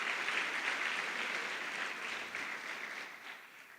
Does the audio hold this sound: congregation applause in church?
yes